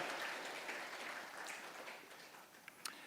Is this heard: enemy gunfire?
no